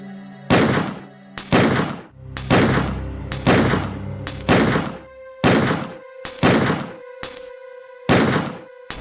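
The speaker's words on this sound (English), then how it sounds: "Let me try some quick shots with my current technique" Magnum revolver quick shots in Resident Evil 2, eight sharp, loud gunshots spaced roughly a second apart, each with a brief ringing tail, with no voices.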